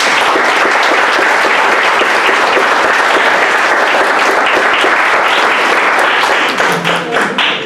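Loud, close applause from an audience at an academic talk, thick and continuous for about seven seconds before thinning into scattered final claps.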